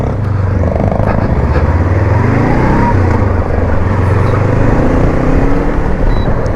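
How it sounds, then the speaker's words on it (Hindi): A Honda NX 500 motorcycle exhaust thumps loud and close while riding, a continuous throbbing engine note with no talking over it. "जो एग्जॉस्ट की आवाज आ रही है मुझे चलाते ही"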